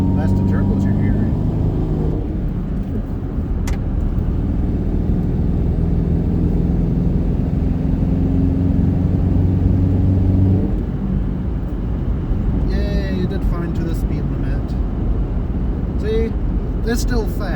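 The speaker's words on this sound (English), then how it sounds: "That's the turbos you're hearing." Turbos whir on a 4th gen SN95 Ford Mustang over a steady low engine rumble heard from inside the car, with the engine note rising and falling, and a person talks over much of it.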